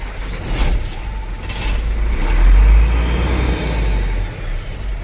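A Hino truck diesel engine cranking and catching, a low rumbling swell that builds loud and then settles into a steady idle.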